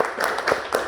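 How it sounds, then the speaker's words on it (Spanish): Congregation applauding at a church service, close, lively clapping from a group with uneven bursts of hand claps over a brief moment. "Te damos la bienvenida con un fuerte aplauso"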